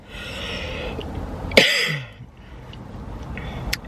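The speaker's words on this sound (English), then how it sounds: "I have like a really nasty cough" A single harsh cough bursts out close by, rough and throaty, over a low background hum that settles back afterward.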